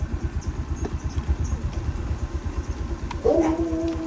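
A motorcycle engine idling close by with a steady low pulsing chug, joined near the end by a brief higher whine.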